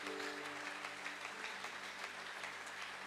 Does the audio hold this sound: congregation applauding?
yes